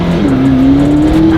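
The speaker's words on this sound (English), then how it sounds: "Just out cruising in a couple of hypercars." A McLaren hypercar, either a P1 or a Senna, cruising through Vancouver city streets, its loud, close engine holding a steady droning note that rises slightly over a brief stretch, with no talking.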